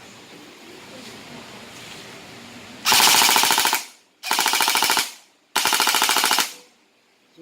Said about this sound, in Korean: 그러면은 간략하게 지금 사격 영상 먼저 보여드릴게요.